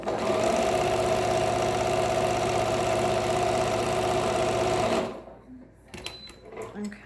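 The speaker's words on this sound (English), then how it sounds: "I'm going to sew the top seam, and I'm going to do a 1/4 inch seam." A sewing machine stitches a quarter-inch top seam on a fabric face mask, running steadily and loudly for about five seconds before stopping, followed by faint handling sounds.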